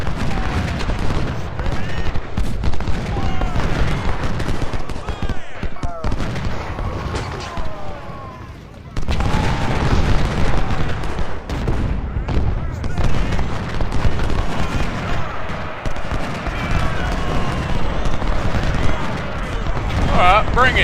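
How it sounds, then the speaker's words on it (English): Booming cannon fire from the Civil War strategy game Ultimate General: Civil War at the Gaines Mill battle, a steady roll of loud blasts and musketry with a short lull midway, while someone talks over it. "Artillery over there."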